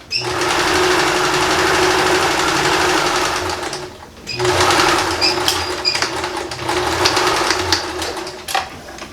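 A sewing machine stitches a second row along the seams of recycled jeans, running in a loud, steady whir, pausing briefly, then running again with some light clicks at the end.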